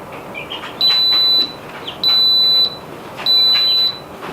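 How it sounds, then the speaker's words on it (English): Three loud, steady electronic beeps from an Instant Pot pressure cooker timer, each lasting about half a second with short, regular gaps between them, sounding close and alone in a quiet kitchen. "After the timer goes off, it will start counting up in minutes as the Instant Pot keeps warm."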